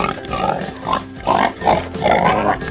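A pig grunts and oinks in a run of about five bursts, close and fairly loud, with short gaps between them.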